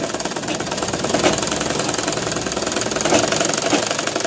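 A sewing machine runs steadily and loudly, its fast, even mechanical rattle continuing without pause and no voices heard.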